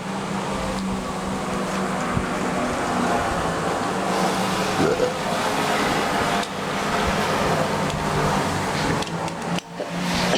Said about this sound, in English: Somebody decided to mow the yard while we're filming.